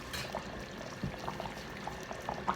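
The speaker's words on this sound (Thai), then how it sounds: "เดี๋ยวเคี่ยวอีกหน่อยให้น้ำมันนวด" Chicken massaman curry simmers in a pot, giving a continuous close bubbling with small pops and gurgles throughout.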